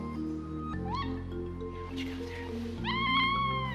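Small cats newly arrived after a long journey meow several times, with two clear rising calls near the start and a louder, sustained meow toward the end over a steady low background hum.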